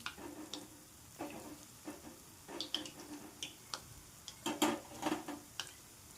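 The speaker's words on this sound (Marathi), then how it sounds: "मग ह्याच कलरवर आपण गुलगुली तळणार" Wheat flour gulgule frying in hot oil over medium heat, a soft steady sizzle broken by scattered crackles and light taps of a utensil in the pan, close by with no talk.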